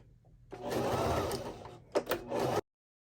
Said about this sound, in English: I'll just stitch down those straight edges, making sure to back stitch at the beginning and the end